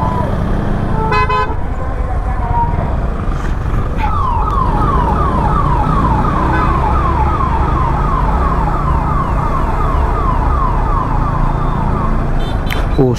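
An ambulance siren wails continuously in a steady up-and-down pattern over loud traffic noise on National Highway 8 in India, with a brief horn toot near the start and end.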